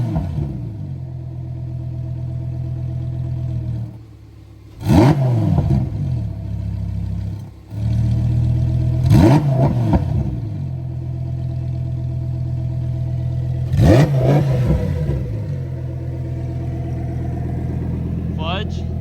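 A Lamborghini Huracan Tecnica V10 idles steadily, then is revved in three sharp, loud throttle blips against a soft limiter, with people talking over the engine.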